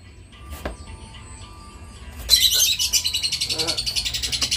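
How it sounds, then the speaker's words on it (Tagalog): Birds chirp and trill rapidly in a loud, pulsing stream that starts partway through, preceded by quieter scattered calls and faint background voices. "Pakaingay ng mga ibon na to."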